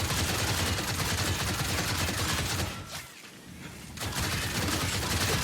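Sustained rapid gunfire in a Fallout video game, a dense continuous fusillade that briefly drops away in the middle before the shooting resumes at full intensity.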